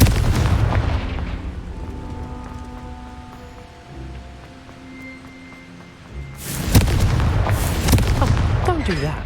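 A Confringo blasting spell in Hogwarts Legacy sets off a sudden heavy explosion partway through, with a deep booming burst and crackling debris after a stretch of low rumbling ambience and faint game tones.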